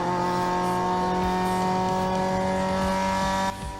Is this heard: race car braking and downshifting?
yes